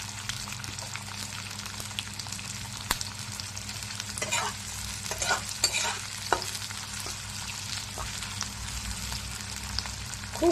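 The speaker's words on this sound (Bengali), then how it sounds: "একে একে পেঁয়াজগুলোকে ভাজা ভাজা করতে হবে।" Onions frying in oil on low heat for chilli paneer, giving a continuous soft sizzle broken by scraping stirs and clinks of a spatula in the pan, close by and without speech.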